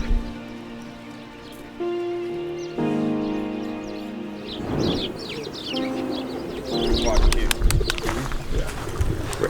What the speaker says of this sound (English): as you can probably guess from all the pigeons around us.